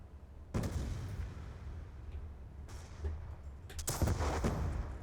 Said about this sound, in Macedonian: Експлозии од сите страни